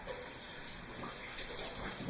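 Water runs steadily from a kitchen tap while dishes are washed up, a continuous close rushing splash that holds at an even level from start to finish.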